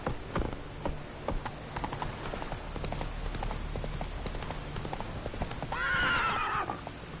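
Roach, a horse in The Witcher 3, gallops with a steady, close clip-clop of hooves throughout, then lets out a loud, clear neigh near the end; brief game sounds sit in the background.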